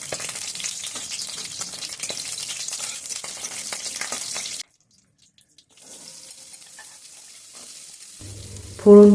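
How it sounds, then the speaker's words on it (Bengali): Bay leaf, dried chilli and cumin sizzle in mustard oil in a kadai, a steady crackling fry that breaks off briefly and then resumes more softly, with a loud thump near the end. "এবার একটা কড়াইতে সর্ষের তেল দিয়ে এর মধ্যে তেজপাতা দেব, শুকনো লঙ্কা দেব আর একটু জিরে ফোড়ন দেব।"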